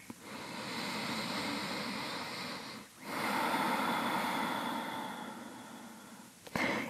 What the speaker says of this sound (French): Et prenez des grandes respirations.